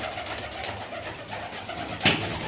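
A pigeon coos softly in a loft, faint low calls under steady background noise, with a single sharper sound near the end.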